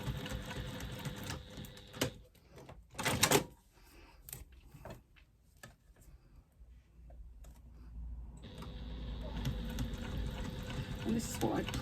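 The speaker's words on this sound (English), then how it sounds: "I'm going to do just throw a second line of stitching on at 1/4 inch" A sewing machine runs in bursts, stitching a second line a quarter inch in on a medium-weight faux leather strap, with short pauses and clunks between runs and a longer steady run near the end.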